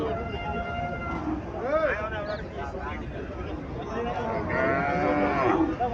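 A local cow and her heifer calf moo repeatedly at a busy village cattle market in Cumilla, with drawn-out calls rising over steady crowd chatter and nearby voices.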